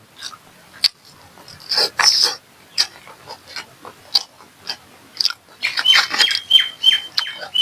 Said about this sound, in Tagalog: Mga ibon dito, hindi masyado maano sa tao ba?